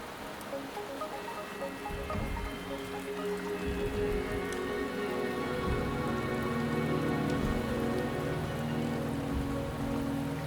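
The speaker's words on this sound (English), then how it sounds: "The rain is subsiding, and the sky will soon clear." Steady rain falls across a video game landscape, a dense continuous patter with occasional heavier drops, holding even and fairly loud for the whole stretch with no voices.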